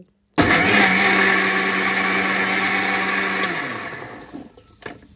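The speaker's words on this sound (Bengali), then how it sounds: "পরিমাণ মতো করে আমি একটা ব্লেন্ডারের জারে নিয়ে নিচ্ছি, কিছু পরিমাণ পানি দিয়েছি, একটা মশলার পেস্ট তৈরি করব" A blender jar grinds spices with water into a paste for a spicy olive pickle. It starts abruptly, holds a loud steady whir for about three seconds, then winds down with a few rattles.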